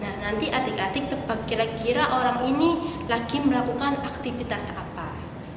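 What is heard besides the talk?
No distinct noise like a dog, phone or traffic.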